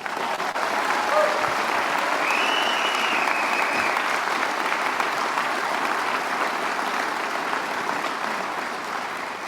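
Steady, dense crowd applause fills a large outdoor gathering at a hospital groundbreaking ceremony for Henry Ford Health, staying loud and even for the full stretch with no talk over it.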